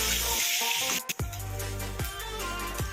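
Bhol and dried fish sizzle steadily in a hot pan, with a continuous loud frying hiss and a few soft clunks as the pieces are stirred and moved.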